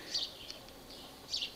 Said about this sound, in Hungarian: A madarak csicseregnek, legalábbis a veréb.